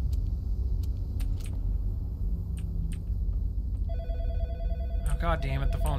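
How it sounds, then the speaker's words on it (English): A telephone rings in the lighthouse of the horror video game In Sound Mind, sounding as a loud trilling burst near the end, over a steady low rumble and scattered clicks. "the phone's ringing again."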